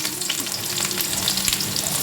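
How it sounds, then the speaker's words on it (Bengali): Chopped onions hit hot oil seasoned with panch phoron, giving a loud, steady, close sizzle with light stirring scrapes throughout and no voices. "এর মধ্যে এবার পেঁয়াজ কুচানোগুলো দিয়ে দেবো"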